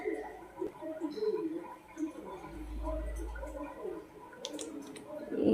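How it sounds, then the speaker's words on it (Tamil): Liquid for rasmalai bubbles and gurgles in a pot at a steady boil, with soft irregular pops and a low rumble underneath. "நல்லா கொதிக்கிறது தெரியுதுங்களா? இது மாதிரி நல்லா கொதிக்கணும்."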